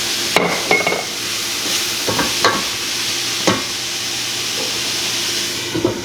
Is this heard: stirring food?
yes